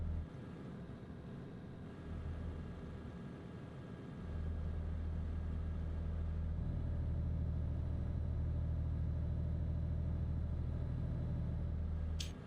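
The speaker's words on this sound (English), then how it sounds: "the only decent thing about this truck is the sound of the engine" Iveco truck engine in the Euro Truck Simulator 2 video game, a steady low diesel rumble that thickens and grows louder about a third of the way in, then holds a droning tone to the end with no talk.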